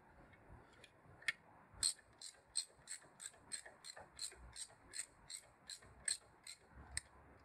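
Screws being tightened on a wheel sensor of a BMW S1000XR motorcycle during a forged wheel conversion. A tool ratchets in a rapid run of crisp, evenly spaced clicks, close and fairly quiet, with no speech.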